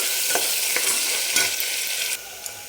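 Finely chopped large onion frying in oil for spicy Maharashtrian mutton masala, a loud close sizzle broken by several quick stirring scrapes, easing slightly near the end, no talking.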